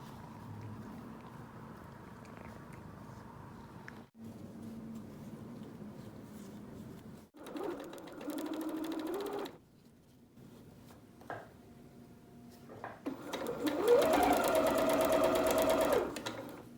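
Sewing machine stitching a circle inside a circle on a cushion, running in several bursts of steady motor whir with short pauses between, loudest and busiest near the end.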